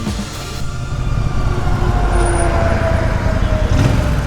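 A Royal Enfield Super Meteor 650 cruiser motorcycle rides along a road near Acclaim Motors, its steady low engine drone and road rumble continuous and fairly loud throughout, with no talk.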